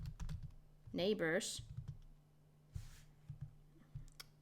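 Quiet typing on a computer keyboard during a networking lab, with irregular soft key clicks in short bursts and a brief spoken word partway through.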